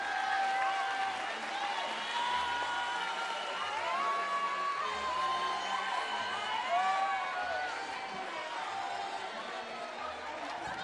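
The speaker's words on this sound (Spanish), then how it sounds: "Recíbanlo con un fuerte aplauso como se merece." A large crowd at a visit by Mexican President Andrés Manuel López Obrador chatters and cheers with scattered applause and whoops, a steady roar of many voices filling the space.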